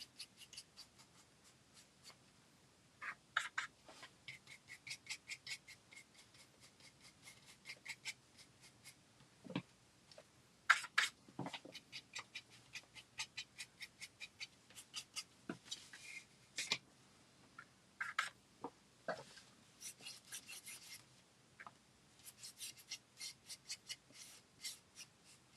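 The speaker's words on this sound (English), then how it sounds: "And I'm just kind of scuffing that along that edge of the" Faint dry scuffing strokes of a brush dragged along the edge of a painted wooden door hanger, irregular short scratchy bursts separated by quiet pauses, close and soft, no talking.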